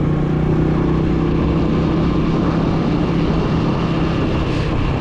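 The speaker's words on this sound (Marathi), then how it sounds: "ट्रकचे ट्रक चाललेत" A queue of trucks rolls past at a roadside checkpoint, a loud steady rumble of heavy engines and tyre noise that drones on close by without a break.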